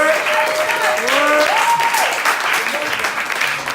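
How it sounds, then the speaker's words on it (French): Audience applause at a comedy café show in Paris, a dense burst of clapping that stays loud and steady throughout, with a few cheers and voices rising over it. "faites du bruit pour Adrien Delphi s'il vous plaît, applaudissez-le"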